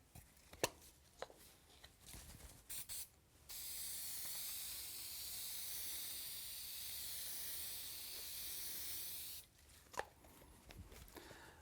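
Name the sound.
spray adhesive sprayed onto grill drawer liner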